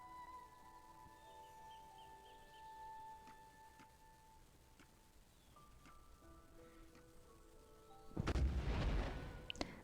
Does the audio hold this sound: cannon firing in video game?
yes